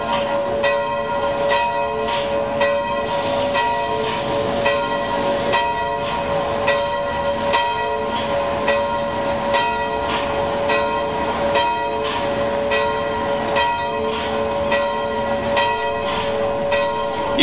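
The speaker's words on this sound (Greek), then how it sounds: "Οι καμπάνες χτυπούνε στην εκκλησία Σάντα Μαρία Κοσμεντίν." Church bells of Santa Maria in Cosmedin in Rome ring on a Sunday morning, a continuous, steady peal of repeated rhythmic strikes with a sustained hum between them, fairly loud and with no voices.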